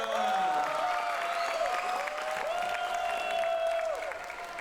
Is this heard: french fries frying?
no